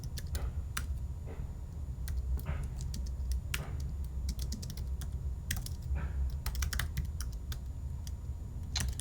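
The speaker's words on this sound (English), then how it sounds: "Now we're not using import, so I'll just type it out." Someone types code on a computer keyboard, with steady clicking keystrokes in uneven bursts over a low background hum, close and fairly quiet, with no voices.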